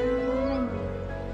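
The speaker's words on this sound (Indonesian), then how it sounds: "Comel kucing kakak ni?" A single cat meows once, close and clear, a drawn-out tonal cry lasting over half a second before fading into quiet room sound.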